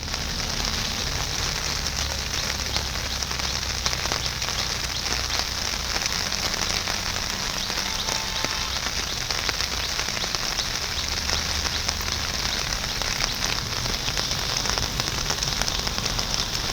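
Heavy rain in Gokarna pours down in a dense, steady, unbroken hiss, loud and continuous throughout with no voices.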